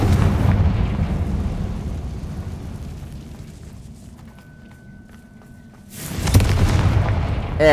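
Confringo spell explosion in a Harry Potter video game, a loud booming burst that fades into a quiet stretch before another heavy blast erupts near the end, with no talking.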